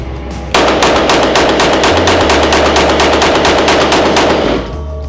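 A Ruger RXM pistol fires a rapid string of shots emptying a 15-round Magpul magazine, each crack close and loud in a fast, even cadence lasting about four seconds, then stopping.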